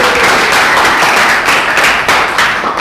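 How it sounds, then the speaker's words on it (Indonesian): A classroom group claps together at the end of a student's presentation in a sociology lesson, a steady, dense patter of many hands lasting a few seconds with no talking over it. "tepuk tangan."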